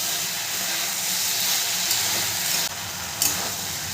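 Ginger and green chili sizzling in hot oil while briefly stirred for a Bengali shukto, a loud, steady hiss with a couple of short scraping bumps near the end.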